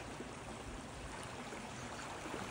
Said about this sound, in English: that part of water over on the right is the beck